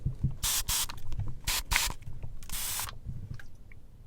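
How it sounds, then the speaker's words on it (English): Orange-and-pineapple-scented antibacterial cleaning spray is pumped onto a computer: several sharp, close hissing bursts in an irregular rhythm with quiet handling between them, alone without talk. "Okay, I just sprayed the computer."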